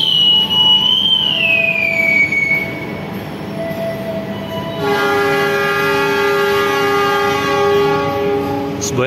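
Train horn sounded as Semboyan 35 departure signal at Yogyakarta station for an extra Pasar Senen–Solo Balapan service, a long multi-tone blast starting midway and holding steady, loud and near, over rolling wheel and station rumble.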